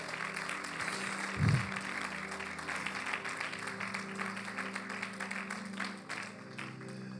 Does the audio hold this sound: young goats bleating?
no